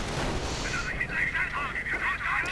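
Anti-tank gun firing and a shell explosion in a World War II strategy game, a dense rumbling blast with continuous battle noise and crackle lasting throughout, while a voice talks over it.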